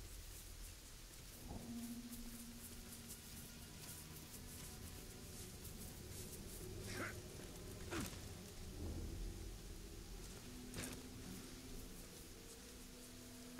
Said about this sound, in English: And it's raining for some reason.